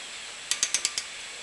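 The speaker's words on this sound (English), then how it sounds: "this is a digital torque wrench from Snap-on" A Snap-on digital torque wrench clicks five times in quick succession while a bolt is tightened, each click sharp and close in an otherwise quiet room.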